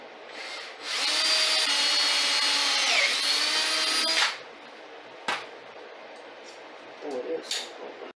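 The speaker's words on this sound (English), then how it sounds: "I'm just going to drill a hole through here to the last pin it" A power drill bores a hole through steel on a welded three-point hitch mount for an air compressor, whining steadily for about three seconds before stopping, followed by a sharp clank and some faint handling noises.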